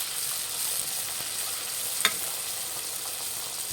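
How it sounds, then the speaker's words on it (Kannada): Poori made with semolina deep-frying in hot oil, an even, fairly quiet sizzle with a couple of sharp pops and a brief clink near the end. "ಫ್ರೆಂಡ್ಸ್, ಇನ್ನೊಂದು ಪೂರಿ ಅದೇ ಥರ ಕರಿಯೋಣ."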